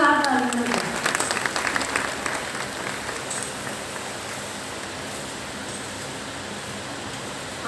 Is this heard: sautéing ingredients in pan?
no